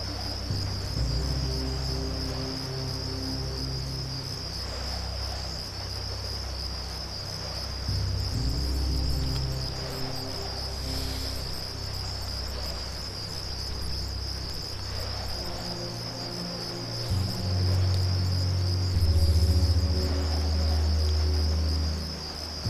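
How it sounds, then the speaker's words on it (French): Crickets chirp steadily at night in the video game Deus Ex, a continuous high trill over a low background hum that lasts the whole stretch, with no voices. "Bien le bruit des grillons de nuit, s'y croirait."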